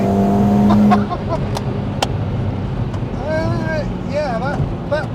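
Tuned 460bhp Audi S3 with a loud, steady engine drone for about a second that then drops away beneath excited voices and exclamations.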